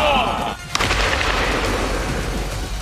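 A single sharp pistol shot cracks out during a military shooting competition, cutting through a loud, busy background with voices talking.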